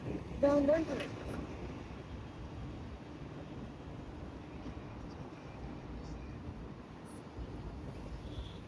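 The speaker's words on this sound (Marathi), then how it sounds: "ट्रेन जाईल बघा" A train rumbles past at a distance near a railway tunnel, a steady broad roar that holds throughout, with a brief louder clatter near the start.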